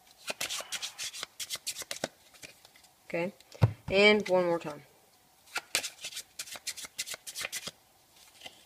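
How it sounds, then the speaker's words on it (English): Playing cards are shuffled in quick riffling bursts, several separate rounds, close up, with a brief spoken phrase in the middle. "So I just shuffled up the pack"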